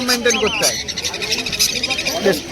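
Small caged birds chirp and whistle in a busy pet bird market, bright rapid calls overlapping close by, with someone talking over them.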